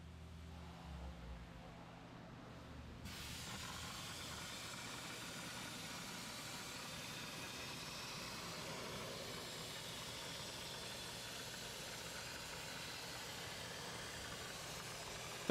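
A Dry Ice Champ Turbo dry ice blaster cleaning a vehicle undercarriage gives a steady, dense roaring hiss that runs unbroken once it starts, with a low rumbling engine-like drone under it.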